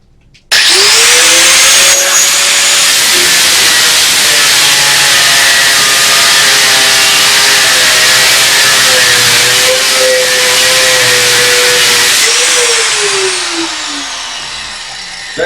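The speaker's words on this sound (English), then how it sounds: "short work out of cutting that piece of mild steel" A multi-cut abrasive disc on an angle grinder slices through a piece of mild steel, a loud continuous high-pitched whine with a harsh gritty edge that holds steady for about twelve seconds, dips in pitch, then winds down alone.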